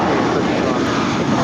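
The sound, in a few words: United Airlines Airbus A320 departing LAX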